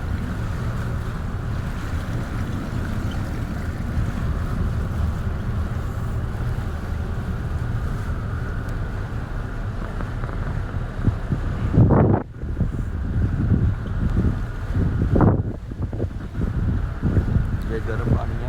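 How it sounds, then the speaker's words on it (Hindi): Steady wind buffets the deck of a large cruise ship sailing from Copenhagen to Oslo, a constant roar of rushing air and water with a couple of louder gusts near the end. "ये बड़ा जहाज़ है, ये है क्रूज़ जो जा रहा है ओस्लो कोपेनहेगन से।"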